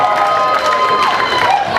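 A stand-up comedy crowd in Chanute, Kansas, cheers and whoops loudly with scattered clapping, a dense burst of mixed voices that stays near and strong throughout.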